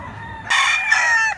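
A fighting rooster crows once, loud and close: a bright, harmonically rich call lasting just under a second against a quiet background.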